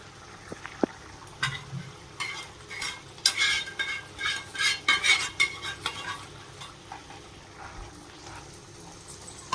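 Pieces of bitter gourd stirred through a simmering curry in a pot, with scraping spoon-on-metal clatter and soft bubbling, busiest in the middle and fading toward the end.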